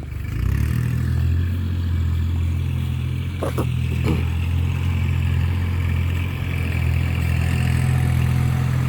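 Kubota L4018 tractor engine running steadily under load while pushing soil beside a six-wheel dump truck, a loud, close, low droning rumble with brief clattering knocks partway through.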